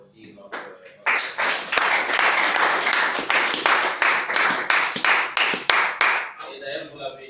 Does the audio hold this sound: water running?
no